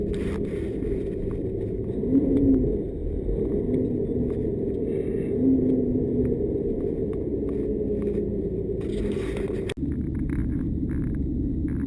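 A car engine hums in a steady, low drone while driving over Berthoud Pass, with slight swells in pitch and a single sharp click near the end.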